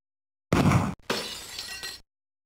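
In the Mad Dog McCree video game on the Sega Mega-CD, a shot box shatters. A sharp, loud burst of breaking and crashing is followed by a longer scatter of debris, then silence.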